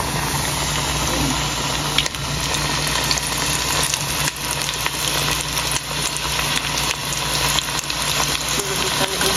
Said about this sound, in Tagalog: Sulubot talaga yung mantika.